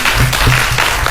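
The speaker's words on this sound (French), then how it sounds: "On peut l'applaudir?" Applause from an audience at an event with young robotics ambassadors from Niger, a steady patter of clapping lasting about a second, with low voice-like tones running underneath.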